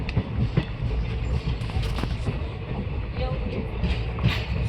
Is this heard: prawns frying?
no